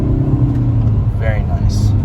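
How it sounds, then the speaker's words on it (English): Hyundai Veloster N turbo engine downshifting through the gears at highway speed, a loud continuous low engine drone with a brief change in pitch, heard beneath someone speaking. "Just going down the gears."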